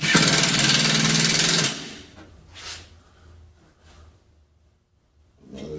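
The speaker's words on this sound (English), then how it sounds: "we're going to drill this thing down." A drill drives self-drilling hex head screws during an LED upgrade kit installation, giving a loud, steady buzzing whine for under two seconds, then quiet knocks and handling noises, with a short burst of drilling returning at the end.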